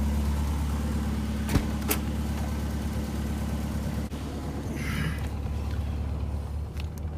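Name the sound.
Morris Minor 1000 vintage car engine running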